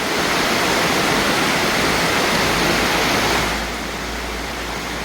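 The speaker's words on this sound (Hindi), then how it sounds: "आवाज़ जो है इस पानी की माशाल्लाह बड़ी जो है मसूर कुन है।" The Grand River rushes through Elora Gorge as a loud, steady broadband roar of moving water that eases slightly in the last second and a half, with no voices over it.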